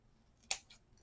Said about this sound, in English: So let me cut that.